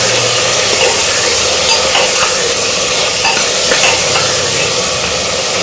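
Tomatoes and peas being stirred in a hot pan for pav bhaji, with continuous loud sizzling and frying hiss and faint scraping of the spoon throughout.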